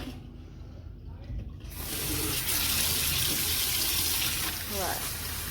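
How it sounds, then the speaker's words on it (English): A kitchen sink tap starts running partway through as lentils are washed in a bowl, a steady close splashing gush that follows a quieter stretch. "I continually just wash the lentils in a bowl"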